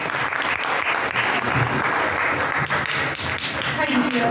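Loud, dense applause from an audience at a school science club event celebrating Albert Einstein's birthday, sustained evenly and close for the whole stretch with no pauses.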